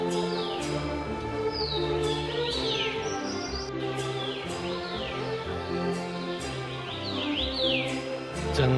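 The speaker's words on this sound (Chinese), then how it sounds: "幽静的林野，鸟声啾啾，遥相呼应" Birds chirp and call back and forth in a quiet spring forest at Xitou, Taiwan, with repeated bright sweeping tweets over a soft, steady background.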